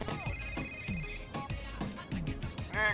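A telephone rings in Grand Theft Auto 4, a repeating electronic ring pattern heard close amid dense game sounds and music, continuing through the whole stretch without any talking.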